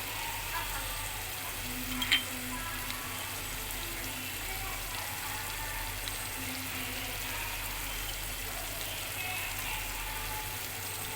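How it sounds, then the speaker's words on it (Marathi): Spices roasting for gravy for Mysore pulao sizzle steadily in oil in a pan while being stirred, a soft continuous frying hiss with faint scraping. "यांना चांगली ग्रेव्ही येण्यापर्यंत आपण मस्त हलवून मसाले भाजून घेऊया"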